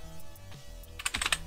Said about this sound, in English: So we type sudo cp